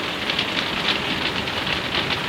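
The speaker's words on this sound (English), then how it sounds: "I can't believe it's raining again." Steady rain falls in July in Croatia, a dense continuous patter of drops on surfaces, even and fairly close with no voices.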